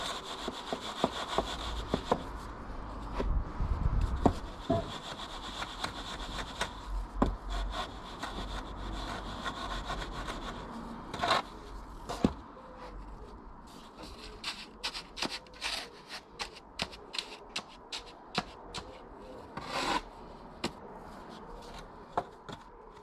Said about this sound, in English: So we're just using a sawing action, and that gets rid of the excess on the top.